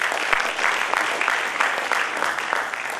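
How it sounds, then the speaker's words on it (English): Audience applause at a corporate event for a networking company, a dense, steady wash of clapping from a crowd that holds at an even level throughout with no break. "Please give a big round of applause for this."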